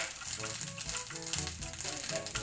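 Constant crackling sizzle of an egg frying in a pan, close and steady, with faint voices murmuring underneath.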